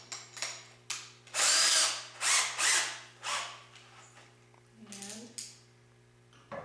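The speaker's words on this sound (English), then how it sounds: "And we'll just start drilling our pocket holes." Several short bursts of a power drill whirring as it bores pocket holes with a Kreg jig for raised panel doors, one longer spin among them, with brief pauses and a faint voice between.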